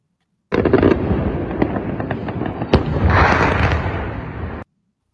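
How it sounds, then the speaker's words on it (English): Loud missile strike explosions in the Chernovtsi area of western Ukraine, targeting military and logistical infrastructure: a dense run of booming blasts and crackling bursts lasting about four seconds, with sharp peaks standing out, no talk. "short video of a missile strike on military and logistical infrastructure"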